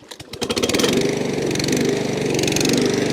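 A homemade four-wheel-drive radio-controlled lawn mower's small engine runs steadily and loudly up close, with a steady buzzing drone after a few sputtering pulses at the start.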